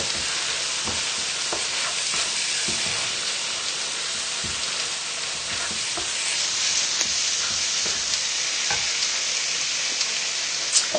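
Steady hiss of lamb jalfrezi frying in a pan with occasional scraping and clicks from stirring, continuous and close, with no talking.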